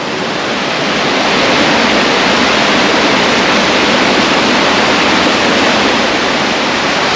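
A Wyoming periodic spring pours water through its creek in a loud, continuous rushing roar, swelling slightly at the start and then holding steady and close throughout.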